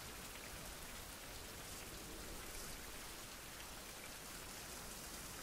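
Heavy rain pours down steadily in the game Survival Fountain of Youth, a dense, even hiss of a downpour hitting surfaces, unbroken throughout and quiet in level, with no voices.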